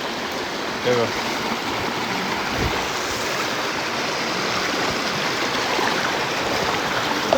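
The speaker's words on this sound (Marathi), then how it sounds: "पाण्याचा स्पीड जरा जास्त आहे" Fast-flowing monsoon river water at night in Konkan roars in a continuous broad rush, with a few faint knocks and bumps breaking through the steady flow.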